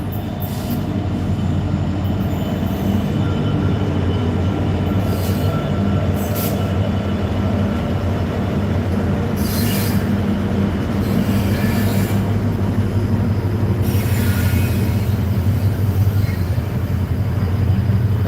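A Southern Short Haul Railroad train rolls past at Junee, a steady loud rumble of wheels and wagons sustained throughout, with brief high squeals and clanks over the continuous roar and no voices.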